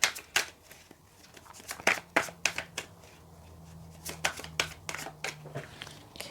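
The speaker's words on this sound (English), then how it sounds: "Okay, having trouble shuffling, but it's fine." Tarot cards being shuffled by hand in a quiet room, a run of irregular papery riffles, slaps and taps, close and fairly soft, with a faint low hum beneath and no talk.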